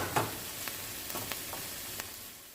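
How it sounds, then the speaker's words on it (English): Shrimp sautéing over high heat in a pan, a soft steady sizzle broken by a few light clicks and stirring scrapes, fairly quiet and close. "you want to work with a fairly high heat when sauteing shrimp"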